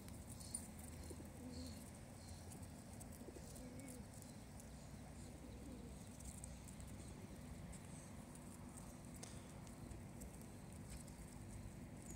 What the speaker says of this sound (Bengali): ব্রেড দিচ্ছে, দেখে কত কত কবুতর